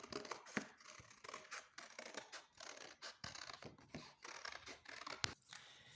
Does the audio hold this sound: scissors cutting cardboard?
yes